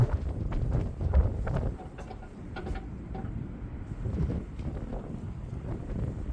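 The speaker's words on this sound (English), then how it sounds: "It's a bit chilly today and windy. I'm sure you can hear the wind." Wind gusts on a chilly day in Avon, North Carolina rumble steadily across an outdoor microphone, a low buffeting roar that swells and eases throughout, with no talking.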